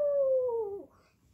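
A voice imitates a wolf howl: one long, steady falling tone that drops away at the end, sung alone in a quiet setting and fairly close.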